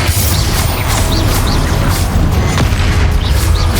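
Confringo blast spell booming in Hogwarts Legacy combat, a loud continuous barrage of deep thuds and bursts with magical whooshes layered over it.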